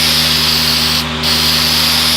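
Hammertone paint hisses steadily from a spray can, a loud continuous aerosol rush with a brief dip near the middle, over a low constant hum.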